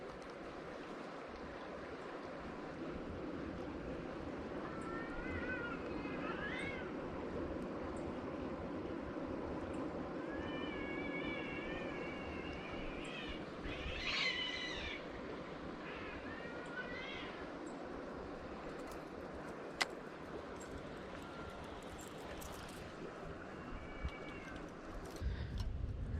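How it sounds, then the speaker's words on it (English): Strange cat-like cries near a river spillway, several short rising calls spread across the clip, moderately distant over a constant rush of falling water. "I heard a bunch of strange cat-like sounds."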